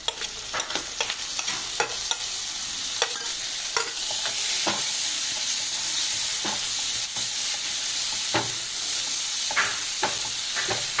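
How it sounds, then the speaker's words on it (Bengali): Masala for palak paneer fries in a pan with a constant sizzling hiss, broken by repeated sharp scrapes and clacks from stirring at an uneven rhythm. "ততক্ষণ পর্যন্ত আমি এটা ফ্রাই করব।"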